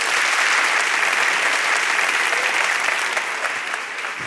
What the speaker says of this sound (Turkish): Dekoru alkışlayan seyirci var.